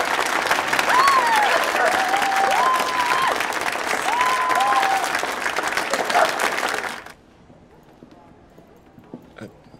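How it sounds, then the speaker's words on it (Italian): Lively audience applause with cheering after a debut performance, a thick burst of clapping with a few whoops over it that cuts off sharply, leaving near silence. "Fategli un bel applauso!"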